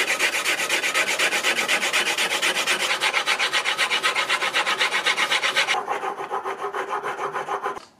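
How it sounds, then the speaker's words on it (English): A steel engraving chisel being sharpened on a very hard whetstone, rapid rhythmic back-and-forth scraping strokes, close and loud, changing tone near the end before stopping. "And now we can just continue and sharpen it a little bit more to get to a higher grit."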